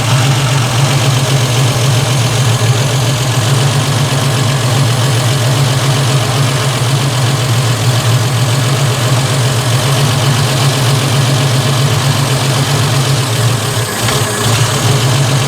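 A running engine, leaned out two turns on the mixture screw, drones at a low idle close up, its steady rumble dipping slightly near the end as it stumbles toward stalling.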